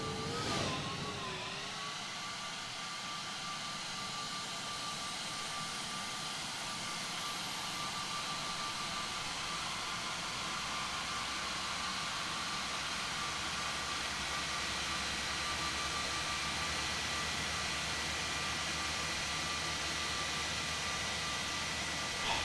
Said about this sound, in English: Do love the sound of the Neo engines.